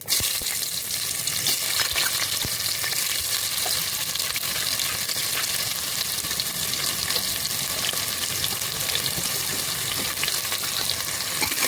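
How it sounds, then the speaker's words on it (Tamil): Steady, continuous sizzling of onions frying in a pan with cinnamon, cloves and cardamom, a dense hiss with occasional stirring scrapes, close and even throughout. "வெங்காயம் வதக்கிக்கலாம்"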